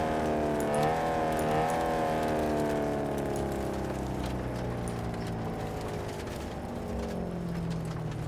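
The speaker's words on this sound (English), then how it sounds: "My car sounds like it's breaking right now, to be honest." A car in Cyberpunk 2077 running rough as if breaking down, a loud droning engine with wavering harmonic tones that rise and fall, mixed with scattered clicks and rattles throughout.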